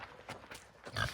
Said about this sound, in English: Okay, girl, you feeding the pigs with me?